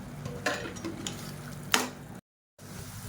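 Vegetables and masala being sautéed in oil for vegetable rice, heard as a quiet sizzle with a few clacks from the spatula stirring. The sound cuts out briefly near the end.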